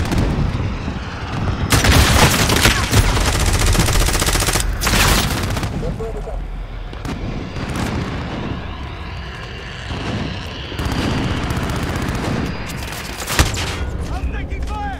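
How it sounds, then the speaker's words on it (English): Gunfire and explosions from the Call of Duty Modern Warfare video game, loud and dense across the whole clip, with bursts of automatic fire and aircraft roar, and a player's voice talking over the action. "I'm taking fire."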